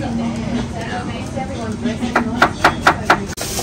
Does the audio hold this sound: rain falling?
no